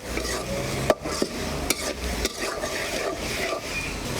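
Jackfruit and potato stir-fried in an open pan, with a continuous dense sizzle and brisk scraping and rubbing strokes of a spatula, plus a few sharp knocks.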